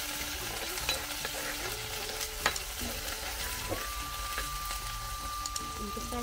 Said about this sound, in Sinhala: මේ තෙල් එකට ලුණු ටිකයි සුදු ලුණු කොච්චි කරපිංචි ටික දානවා. ඒක දාලා පොඩ්ඩක් කලවම් කරගන්න.